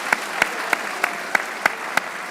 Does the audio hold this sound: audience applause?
yes